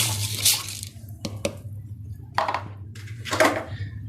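Small hard black lentils (black urad dal) rattle and patter into a metal pot in several bursts, with a faint clink between, over a low hum.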